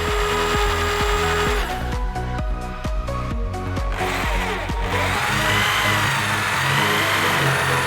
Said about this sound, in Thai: ดอกสว่านที่ใช้ในการเจาะฟิลพอร์ตนะครับ